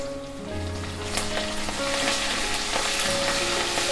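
Ginger garlic paste sizzles and fries in hot oil with green chillies and curry leaves for a mushroom curry, a close, steady crackle with occasional stirring and no talk.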